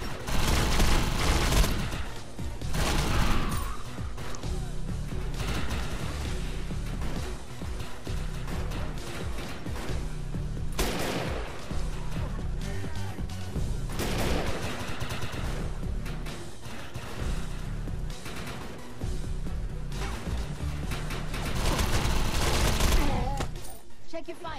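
Gunfire in the video game Defiance, sustained bursts of rapid shots and volleys rising and falling over about twenty-five seconds, mixed with game sounds and music.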